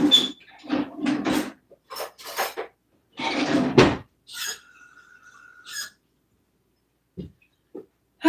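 Metal cutlery clinks and rattles in short, separate bursts during a search for a spoon. Each burst of clatter is close and clear, with quiet gaps and a squeak between them.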